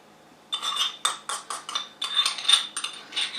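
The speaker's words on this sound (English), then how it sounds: "It's just a case of stirring it all together" Spoon clinking and scraping in a bowl while stirring mayonnaise and Dijon mustard into a burger sauce, a quick run of close, light metallic strokes with no voices.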